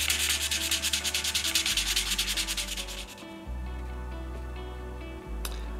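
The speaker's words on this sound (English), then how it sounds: "Let's get it wet, and we use 800 grit to make it smoother." Baltic amber is wet-sanded by hand on 800 grit sandpaper, a fast, even scrubbing rhythm that gives way to a smoother, steady rubbing over a low background hum.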